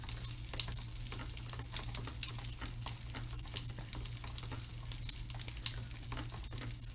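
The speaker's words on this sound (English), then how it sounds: "I hope you guys can hear that obnoxiously loud popping sound" A stirred chemistry mixture pops and sizzles continuously: dense, crackly bursts over a low steady hum, close and moderately loud, with no talking.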